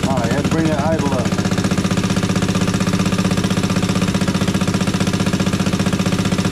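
Small engine idling after its idle speed was raised during a stator and rectifier conversion, a steady rapid pulsing putter close by with a short burst of talk near the start.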